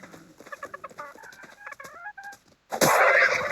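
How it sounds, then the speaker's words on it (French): Chickens clucking in the Ark survival game, a series of short clucks and squawks over the first two and a half seconds, then a sudden loud, noisy burst of flapping or attack noise near the end. "on est attaqué par des poules"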